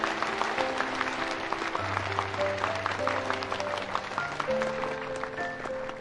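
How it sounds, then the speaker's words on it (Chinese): Wedding guests clap steadily after the bride and groom exchange rings, the applause running the whole time over tonal background music. "掌声和祝福送给他们好吗？"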